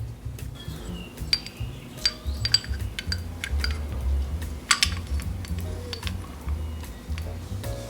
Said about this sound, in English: now we just place our pads in there